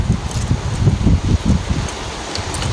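Wind rustles through cassava leaves in a field as a storm approaches, a steady, fairly loud soft rushing with gusty swells and no speech.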